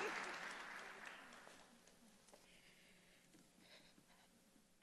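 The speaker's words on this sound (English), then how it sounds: "Let's give Natalie another hand of applause" Applause from the audience at an annual MLK breakfast event, a broad clapping wash that fades out over the first two seconds, followed by near silence with a few faint knocks and a sudden loud burst at the very end.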